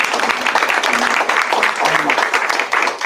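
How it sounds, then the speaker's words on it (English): An audience at a panel discussion on sexual abuse, domestic violence and human trafficking claps steadily, a dense, loud wash of applause that carries through the whole moment with some voices mixed in. "can we have a round of applause"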